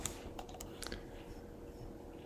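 Quiet, close typing on a computer keyboard, with a short flurry of key clicks near the start and then fainter scattered taps over a soft background hum.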